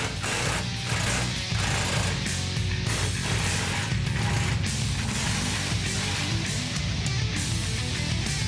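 A wrench ratchets in bursts of rapid clicking, with short pauses between them, while loosening the 18mm and 15mm shock nuts on a 2015-2018 Ford F-150 4WD. The sound is close and steady, and no one speaks.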